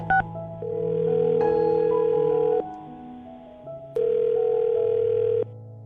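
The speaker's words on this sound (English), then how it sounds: "I'm going to dial her phone number right now" A telephone being dialed: a short burst of keypad tones, then long steady tones like a ringback that stop and resume after a pause, clear and loud with no voices.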